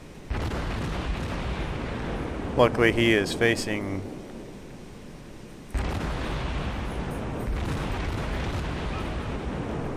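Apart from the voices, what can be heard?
naval gunfire of high explosive shells, St Louis ship, video game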